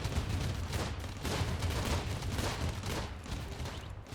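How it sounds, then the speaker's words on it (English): Uranium turrets opening fire in a survival video game, a dense continuous barrage of rapid booming shots rolling without pause, loud and close. "now the uranium turrets are opening fire"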